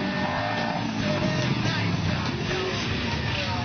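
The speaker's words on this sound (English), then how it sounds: "This event, aptly named the Barrel Race, mirrors the normal rodeo barrel race, except for using 4-wheel drives instead of horses" Four-wheel-drive vehicles race through tight turns in a rodeo-style barrel race, giving a dense, continuous engine roar with revving, loud and close, while crowd or commentary voices mingle underneath.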